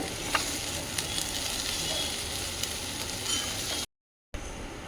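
Thankuni leaves and potatoes fry in a pan with a steady, close sizzle and light scraping, running evenly before a brief dropout near the end and then resuming.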